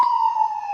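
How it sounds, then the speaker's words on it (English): A close, loud ambulance siren holds a steady wailing tone throughout, with no voices over it. "I could be annoyed with the ambulance messing up the video."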